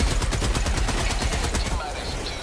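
An HMG emplacement heavy machine gun in Helldivers 2 fires a rapid, loud, continuous burst of rhythmic shots that thins out near the end, with no talking.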